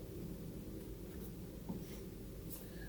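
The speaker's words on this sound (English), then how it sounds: "I'm going to write this down" Pen scratching steadily across paper, a continuous faint rasp with small strokes and taps, close and quiet, no voice over it.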